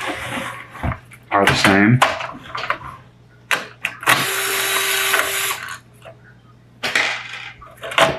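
Metal case screws being removed from a Sharp MX-407FU1 fuser unit and set down, giving scattered close clicks, taps and small metallic clatters between stretches of talk.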